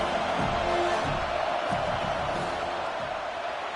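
Stadium crowd in a Madden football video game, a dense, steady roar of murmuring and noise building before a field goal kick.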